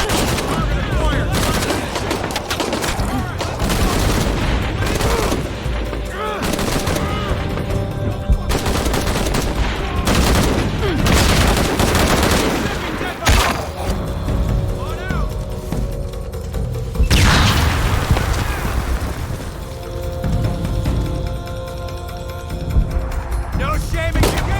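Sustained, dense gunfire in the video game Shadow of the Tomb Raider: rapid automatic bursts and single shots overlap for the whole stretch, loud and close, with shouted voices mixed in.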